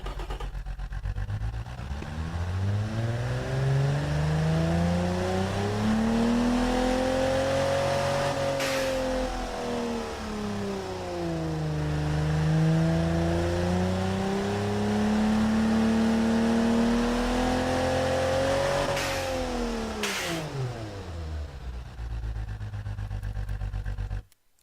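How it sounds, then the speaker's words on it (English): Car engine from the Automation building game, a synthesized engine sound that revs up and down in long smooth sweeps, steady and loud throughout with no talk. "So there we go, there's our engine sound."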